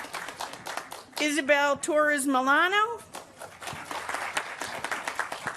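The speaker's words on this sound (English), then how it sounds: "thank you for clapping for everybody" Audience clapping at a peace and justice education commencement reception: a scattered, continuous patter of applause runs under a person reading out names.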